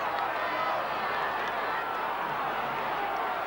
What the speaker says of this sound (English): Terrific crowd.